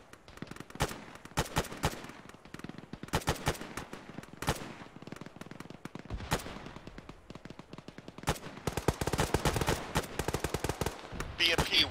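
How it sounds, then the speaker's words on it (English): Video game gunfire in Arma during a ShackTac squad session, with repeated bursts of automatic and single shots at varying distances, cracking densely and growing heavier toward the end. "They're shooting down that road."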